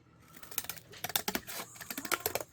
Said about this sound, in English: I love the way it sounds when you cut corrugated